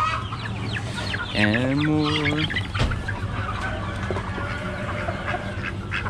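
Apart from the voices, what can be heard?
chickens clucking at an Amish animal auction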